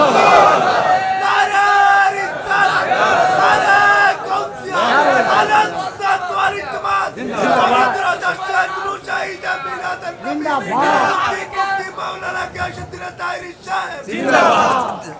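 A large crowd at an outdoor religious sermon gathering roars the takbir in unison in reply to the preacher, loud repeated chanted shouts rising and falling across the whole stretch.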